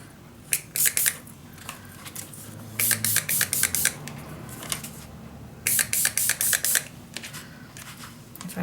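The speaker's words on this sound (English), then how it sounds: "So I'm just going to spray around where I want it." Several short hissing bursts of an aerosol spray, each about a second long, with pauses between them.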